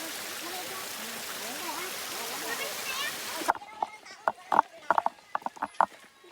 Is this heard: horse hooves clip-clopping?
yes